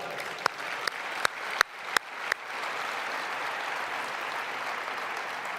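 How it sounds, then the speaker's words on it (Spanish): Audience applause at a political rally in Spain, opening with several loud, separate close claps before swelling into a sustained roar of clapping from a large crowd. "para quien les pido un fuerte aplauso"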